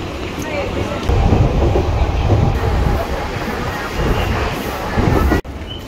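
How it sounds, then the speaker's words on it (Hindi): Train rumbling at Andheri railway station in Mumbai, a steady loud wash of rail noise with clattering wheels, running throughout and cutting off abruptly near the end. "तो गाइज हम अंधेरी स्टेशन पहुंच चुके हैं"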